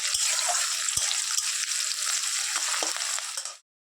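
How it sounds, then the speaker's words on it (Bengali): Potatoes frying in a pan while being broken up, a steady loud sizzle with a few soft knocks of the utensil, close, ending abruptly. "আলুগুলো যে দিয়েছিলাম সেগুলোই হচ্ছে একটু ভেঙে ভেঙে দিচ্ছি"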